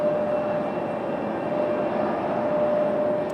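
An American Airlines A319 airliner at Raleigh-Durham airport gives a steady, broad jet-engine roar with a faint high whine, sounding continuous and moderately distant.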